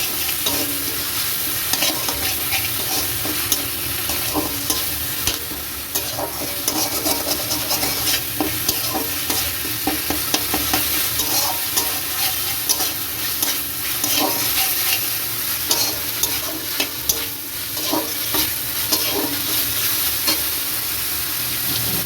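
Bhetki fish frying in a pan with ginger paste and onion, being stirred: a continuous oily sizzle with repeated scraping strokes of a spatula against the pan, steady and close, no talking.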